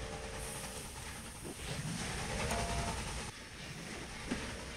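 Trains running on the lines in the Railway Empire video game, a faint, steady rail rumble with hissing steam and a soft whistle tone, no talking.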